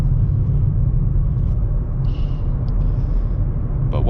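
Nissan Z Sport with a 9-speed automatic gives a steady, loud low engine rumble and road drone while driving in drive, continuous throughout with no strong revving peaks.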